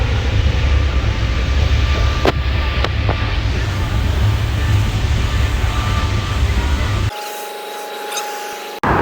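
A passenger train rumbling steadily at Mangalore Central station in light rain, a loud continuous low roar with brief clanks, cutting abruptly to a quieter steady hum near the end.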